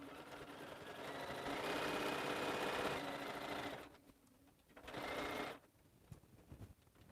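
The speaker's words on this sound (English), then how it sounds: "And I am going to back stitch." A sewing machine back stitching a lined stocking runs in a loud steady whir for nearly four seconds, stops, then gives a shorter burst before falling quiet, no talk.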